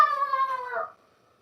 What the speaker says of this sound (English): We have a pack of wild turkeys that roam the neighborhood.